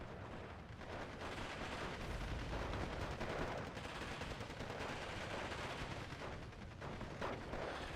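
Rapid gunfire from a Beretta weapon in a Steel Division 2 infantry battle, dense bursts of shots and distant artillery-like booms layered together, loud and continuous with no talking.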